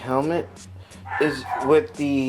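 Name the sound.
dog barking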